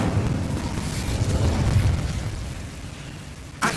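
Incendio fire spell cast in the video game Hogwarts Legacy, a loud rumbling whoosh of flame that stays steady for most of the moment, fades slightly, then ends with a short bright burst.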